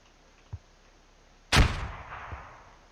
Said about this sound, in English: No, mortars have been too short.